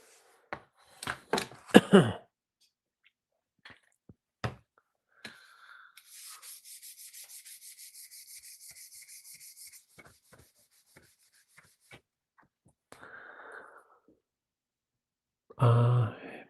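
A fixed-blade knife is sharpened in a workshop with scattered scraping strokes and taps, then a steady run of rhythmic rasping strokes for several seconds, followed by more sparse scrapes and a louder rub at the end.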